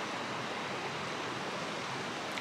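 The Averol river rushing through an alpine valley near Villar d'Arêne in the Western Alps, a dense, constant roar of water, loud and unbroken throughout.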